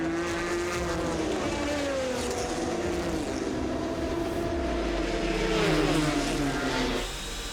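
Race cars at the 2019 24 Hours of Le Mans roar past, their loud engine whine sliding down in pitch as they go by, then a deeper engine note rising near the end.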